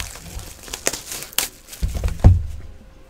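Tight foil wrapper of a 2015 Topps Fire football card pack being crinkled and torn open up close, a run of sharp irregular crackles with a louder rip and crunch near the end.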